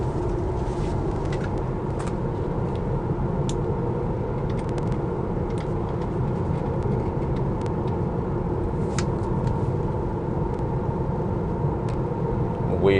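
Cabin drone of a Tesla Model 3 Long Range on a long drive, a steady low road and wind rumble with scattered small clicks and rattles.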